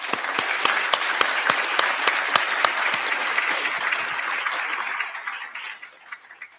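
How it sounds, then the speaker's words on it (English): Sustained applause from an audience honoring inductees into the Sigma nursing honor society: many hands clapping briskly and evenly before tapering off and fading out near the end. "Round of applause for our inductees."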